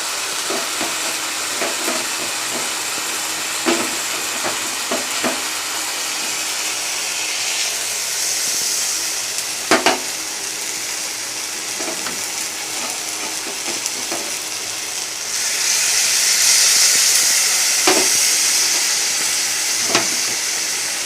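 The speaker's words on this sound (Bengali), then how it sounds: "পেঁয়াজ আদা রসুনটা কষিয়ে নিলাম" Onion, ginger and garlic with Kashmiri chilli, turmeric, cumin and coriander powder frying in a pan for chicken kosha, a steady loud hiss and sizzle that swells louder near the end, with occasional scraping taps of a spoon.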